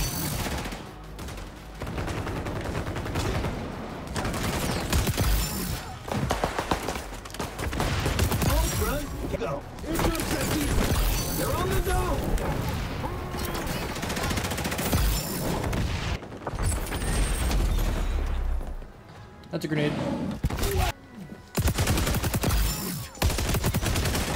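Rapid bursts of ACR assault rifle fire in the video game XDefiant repeat in dense volleys with brief pauses, loud and close throughout, mixed with other game sounds and occasional speech.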